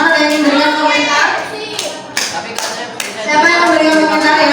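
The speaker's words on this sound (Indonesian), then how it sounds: "tepuk tangan untuk kelompok Jeremy dan kawan-kawan" Classroom applause for a student group after their presentation, a burst of clapping hands from pupils that fades midway, swells again in a brief flurry, then rises into fuller, steady clapping near the end.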